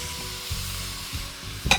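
Vegetables and soy sauce hit a hot pan for a camp-cooked beef stir-fry, giving a steady sizzle with a few soft stirring scrapes and a brief sharp clink at the end.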